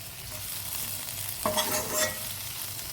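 Oil goes into a hot pan for a banana-leaf-wrapped mackerel fry, and a sudden close sizzle bursts out midway over a low background hiss, with no talking.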